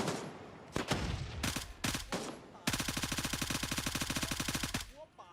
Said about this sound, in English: They gotta be shooting at me through the bush.